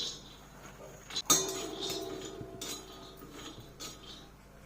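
Peanuts warming in a pan on a gas stove while making red chilli thecha, rattling and clinking against the metal with a sharp knock early on, then a steady close scraping stir.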